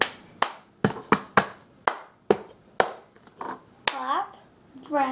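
Cup-song rhythm played by hand, with loud, sharp claps and taps on a table at close range in an irregular teaching pattern, each hit ringing out before the next, while a person talks between and over the final beats.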